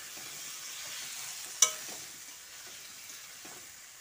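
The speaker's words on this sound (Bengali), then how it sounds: "দিয়ে কাঁচা কলা ও আলুটার সঙ্গে ভালো করে মিশিয়ে নিচ্ছি" Spice paste gets stirred into raw banana and potato in a pan: quiet, soft scraping and faint sizzling, broken by one sharp knock of the spoon partway through.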